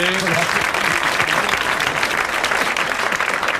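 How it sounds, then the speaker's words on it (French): A studio audience on a 1982 French television show applauds a prize winner, loud dense clapping that runs unbroken throughout, with a voice briefly audible at the start. "Vous l'applaudissez"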